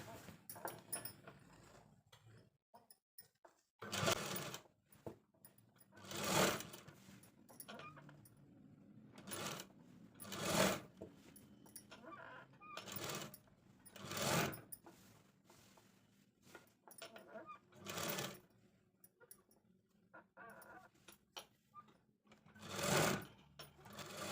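A sewing machine stitching a girls' uniform skirt, with short bursts of rapid whirring and clicking separated by quiet pauses, close and fairly soft in a still room.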